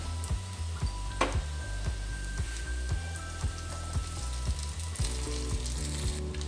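Rice with cashews fries in a pan, a close sizzle with rhythmic scraping stir strokes and a few sharp clinks, steady and moderately loud with no talking.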